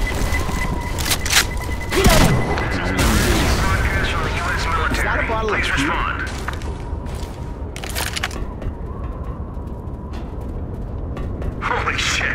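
Gunfire in the Left 4 Dead 2 video game as armored zombies are shot, with loud bursts of shots and booms over a busy game background, and voices talking in between.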